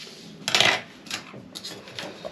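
Scissors cutting into a paper dress pattern at the dart, giving a few short crisp snips and rustles with one louder cut near the start, close up with no talking.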